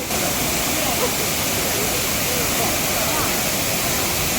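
Areekal waterfall at Piravom pours with a loud, close, unbroken rushing roar that stays even throughout.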